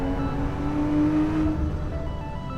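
Racing sim engine in a video game, a steady loud revving drone with a throttle blip on downshift, the pitch dropping as the gear changes, engine alone with no talk.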